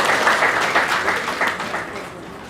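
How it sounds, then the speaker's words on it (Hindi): A hall audience claps loudly as certificates are handed out for a completed refresher course, dense, sustained applause that eases off slightly toward the end, with no talk on top. "जोरदार तालियों के साथ।"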